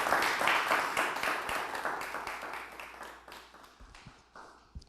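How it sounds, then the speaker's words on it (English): Audience applause for a comedian at a Philadelphia comedy show: dense crowd clapping that starts loud and gradually thins out and fades over a few seconds. "Start clapping right now for Philadelphia is Funny."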